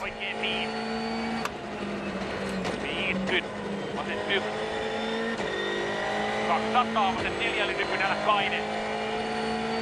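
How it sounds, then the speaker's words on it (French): Rally car racing fast along a stage at Rally Catalonia 2013, its engine note rising and falling with gear changes, heard under steady commentary talk with a busy, continuous roar throughout. "On laisse parler la voiture, le copilote, l'atmosphère."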